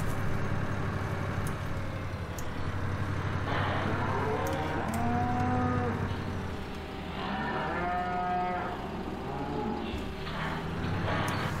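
Cattle mooing on a farm in Farming Simulator 2015, several long drawn-out moos rising and falling over a constant low engine hum, with brief talk in the background.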